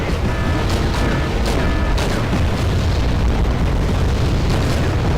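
Artillery and rocket explosions from the Wargame strategy game, a dense continuous barrage of loud booms and rumbling blasts with sharper cracks scattered throughout, no voices.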